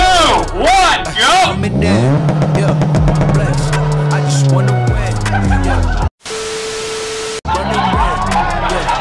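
A Toyota Corolla launches hard down a race track during a track day, its engine revving loudly and rising through the gears in long sweeping tones, with a brief lull before the roar resumes.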